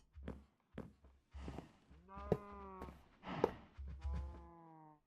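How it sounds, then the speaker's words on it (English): A cow in Minecraft moos in several drawn-out, low, lowing calls, with a couple of shorter grunts, heard fairly close against a quiet game backdrop with faint talk. "I accidentally let a cow in"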